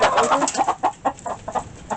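Two broody hens sharing one nest cluck close by in a quick, uneven string of short throaty notes, each call separate and fairly loud.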